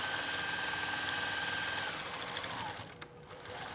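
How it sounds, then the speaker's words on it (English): A sewing machine stitching a fabric mug rug hums in a fast, steady run for a few seconds, then slows and stops, leaving quiet room noise. "I'm just going to stitch again right over that same stitching"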